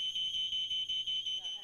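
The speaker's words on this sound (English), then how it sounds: "If burnt toast keeps setting off your alarm, don't take out the batteries." A shrill, high-pitched smoke alarm beeps in a fast repeating pattern, loud and steady, with faint voices underneath.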